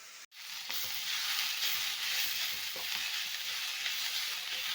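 Chopped onion and tomato sauté in a pan for beef curry, making a continuous, even sizzle after a brief silent gap near the start.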